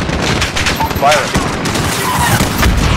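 Heavy, sustained gunfire in Call of Duty Modern Warfare roars through all three seconds, a thick fusillade with booming impacts and radio-like voices mixed in.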